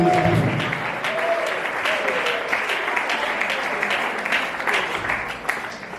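Wedding guests break into sustained, crowded applause, steady clapping that fills the room and slowly thins near the end, with a voice briefly audible at the start.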